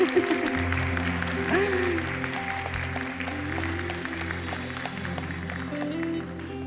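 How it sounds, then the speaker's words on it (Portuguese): A church congregation at a Saturday youth-month service applauds, a moderate wash of clapping over sustained organ or keyboard chords, with voices faintly present. "Uma salva de palmas em nome de Jesus pela vida dele."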